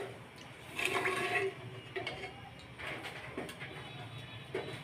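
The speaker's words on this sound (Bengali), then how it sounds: "এখন এতে আমি দিয়ে দিব রসমালাইয়ের জন্য দুধ।" About 1.5 litres of milk pour into a pot for rasmalai, a soft, steady liquid rush with a few gentle splashes, faint and close, heard alone.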